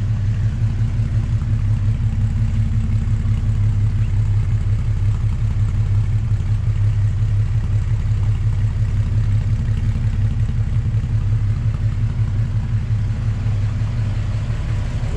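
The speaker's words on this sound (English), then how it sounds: "Kind of hear the exhaust in the back here." A 1951 GMC Series 100 pickup's inline-six exhaust idling at the rear, a loud, steady low rumble with an even pulsing beat and faint mechanical clatter, continuous throughout.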